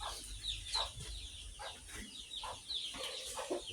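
Native village chickens, mostly ayam kampung with a few Eba hens, cluck softly while feeding in the morning, giving repeated short calls at a moderate distance under faint background noise.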